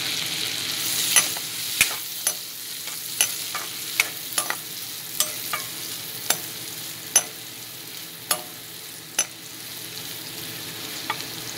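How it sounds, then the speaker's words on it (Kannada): Finely chopped onion fries in a kadai with a soft, steady sizzle, punctuated by regular sharp taps of a spatula against the pan about once a second. No talking. "ಇವಾಗ ಇದಕ್ಕೆ ಸಣ್ಣ ಹೆಚ್ಕೊಂಡಿರೋಂಥ ಈರುಳ್ಳಿ ಹಾಕೋತೀನಿ."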